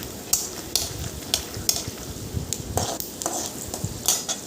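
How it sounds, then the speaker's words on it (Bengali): Peanuts frying in mustard oil, with a steady sizzle broken by repeated sharp scrapes and clinks of a spatula against the pan, close and fairly loud. "এরপর বাদামগুলো ভেজে নিয়েছি সর্ষের তেলে"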